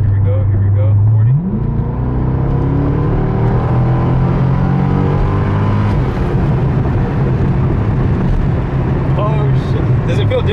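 A C6 Corvette accelerates hard from inside the car, its engine note sweeping sharply upward then holding a loud revving drone through the gears, with road roar and occupants talking underneath.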